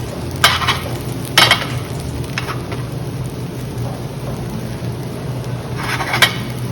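An omelet frying in a pan: a steady, close sizzle like light rain, broken by a few sharp clicks and scrapes of a utensil against the pan, with no talk.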